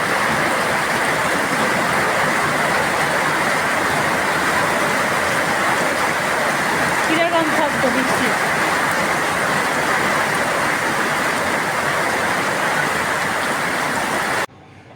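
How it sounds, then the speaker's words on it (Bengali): Steady, dense rain pours throughout, a constant broadband hiss with no breaks, cutting off abruptly at the very end. "আবার বৃষ্টি নামছে"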